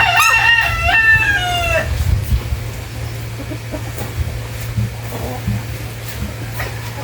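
White leghorn chickens in a poultry setting: a rooster crows loudly at the start, followed by scattered faint clucks over a steady low hum.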